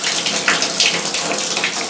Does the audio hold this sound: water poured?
yes